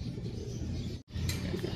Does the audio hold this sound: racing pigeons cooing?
yes